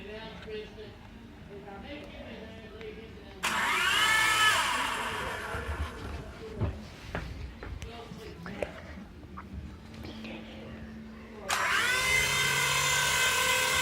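A toy mini helicopter's tiny electric rotor whines up in two high-pitched bursts, close and buzzing, with people talking and handling noise in between.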